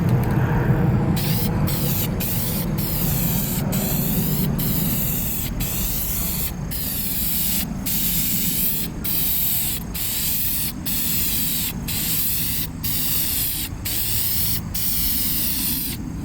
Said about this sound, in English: one light coat of VHT Niteshade